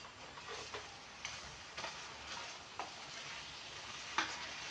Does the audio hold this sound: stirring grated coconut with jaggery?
yes